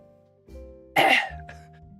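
A person imitates an asthmatic cat's cough with one sharp, raspy hack followed by a shorter weaker one, close and alone over a quiet background hum.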